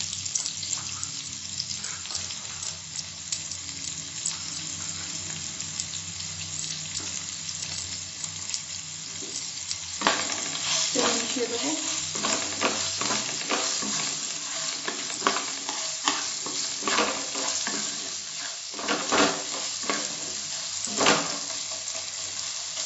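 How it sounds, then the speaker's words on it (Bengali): Chopped onion fries in oil with already-fried lentils for Karnataka-style lemon rice, a constant close sizzle that later gains repeated loud clattering strokes of a spoon stirring in the pan, with no talk. "গোল্ডেন ব্রাউন হওয়া পর্যন্ত ভাজবো"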